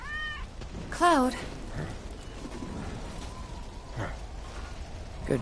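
A cat in a Final Fantasy video game gives two short, clear meows close up, one at the start and a louder one a second later, over a low background ambience.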